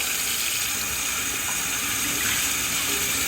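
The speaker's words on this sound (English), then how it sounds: "and then you rinse them all off" Loud, steady water gushes from a tap, rinsing bleach off wine-making equipment after scrubbing. The broadband rush runs unbroken and close, with no voices.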